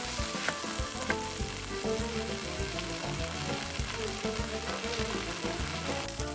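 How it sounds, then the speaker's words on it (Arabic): Ark clams fry in hot oil in a pan, crackling with a dense, steady sizzle up close, with occasional pops and stirring scrapes and no voices. "لو المخلول دي كبيرة كانت كلها فتحت وانا بنزلها في الزيت"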